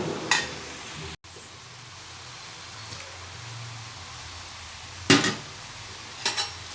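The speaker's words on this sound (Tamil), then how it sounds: "இந்த முறுக்குலாம் முறுக்கு நல்லா வெந்துருச்சுன்னா அந்த பபுள்ஸ் எல்லாம் அடங்கிடும்" Murukku frying in hot oil for Diwali, a steady low sizzle and bubbling close by, with a few brief sharp clinks of a utensil against the pan.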